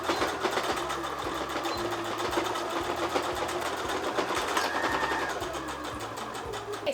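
A sewing machine stitches through the bulky foam-lined corners of a quilted patchwork bag, running in a steady, continuous mechanical whir with a rapid regular needle rhythm, close and fairly loud throughout.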